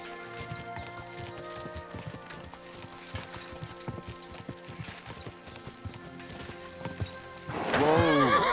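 Horse hooves clip-clop in a steady rhythm over faint background music, ending with a loud horse whinny, in the video game Kingdom Come: Deliverance II.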